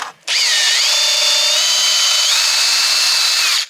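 A power drill whines up loud and close as it bores into wood, a single sustained run of a few seconds with the motor pitch sagging under load, no voices.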